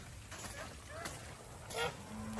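Turkeys soaked by heavy rain call out in a short series of honking, gobbling cries, with a louder burst near the end over steady background noise.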